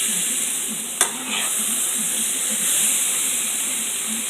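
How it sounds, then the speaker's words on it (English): Sauce with chili powder stirred in a pan, a loud steady sizzle and hiss with a sharp clink of a utensil near the start, close and continuous. "Alright, stir it up."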